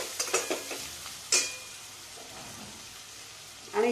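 Potatoes, capsicum and spices, including turmeric and garam masala, are stirred in a pan over a medium flame for a dry sabzi. Brief scraping bursts come first, then a faint sizzle, and a louder stir at the end.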